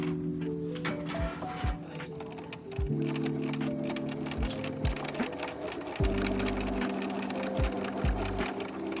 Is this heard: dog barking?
no